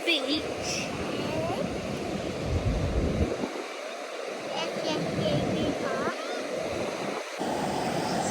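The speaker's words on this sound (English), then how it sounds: "It's actually a beach." Ocean surf at a Sydney beach, a broad continuous wash of breaking waves mixed with wind buffeting the microphone, with faint voices and distant calls in the background.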